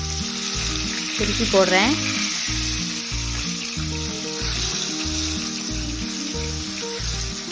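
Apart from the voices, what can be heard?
fish frying and sizzling in a pan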